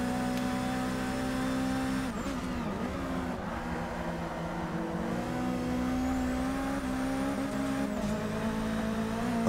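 Racing car engines in Forza Motorsport 6, a steady high whining drone with shifting pitch as cars chase a Honda Civic, continuous and loud with no talk.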